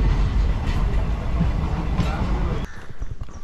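A train pulling away from a station in Goa, India rumbles and clatters steadily nearby, a continuous low rolling noise with faint rhythmic clicks, then the sound drops away abruptly near the end.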